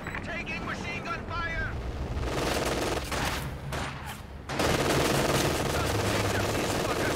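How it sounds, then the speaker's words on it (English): Machine gun fire in Company of Heroes, a World War II strategy game: rapid bursts of gunfire crackle over battle noise, with a brief lull and then a louder stretch of sustained firing, while faint voices come and go underneath. "Taking machine gun"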